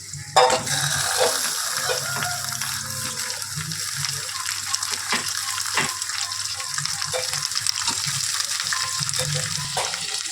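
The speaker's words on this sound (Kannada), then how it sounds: "ಮೆಣಸಿನ್ಕಾಯಿ ಹಾಕ್ಕೊಂಡಿದ್ದೀನಿ ಬೆಳ್ಳುಳ್ಳಿ ಹಾಕ್ಕೊಂಡಿದ್ದೀನಿ ಸ್ವಲ್ಪ ಎಣ್ಣೆಲಿ ಫ್ರೈ ಮಾಡಬೇಕು" Chillies and garlic frying in a little oil, a loud, dense, continuous sizzle close by with scraping stirs and a burst as tomato is dropped in near the start.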